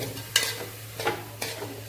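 Masala frying in coconut oil for a quick mango curry is stirred in three separate scrapes over a soft, steady sizzle, close and fairly quiet.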